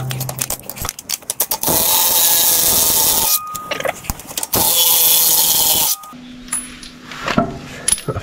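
A Milwaukee power tool works on bolts of a John Deere 6210R tractor, giving loud, close mechanical whirring bursts of a few seconds each, separated by rattling clicks and short pauses.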